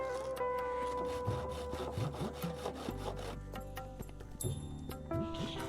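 Hand sawing through wood or bamboo while building a hut, a steady back-and-forth rasp of repeated strokes, close and loud, with some clatter and faint background sound.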